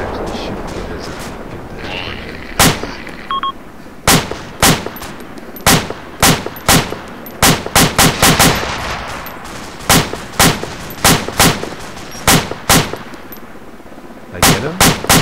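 Loud bursts of rifle gunfire from a realistic first-person shooter game, sharp repeated shots in clusters and rapid strings across the clip, with someone talking between volleys.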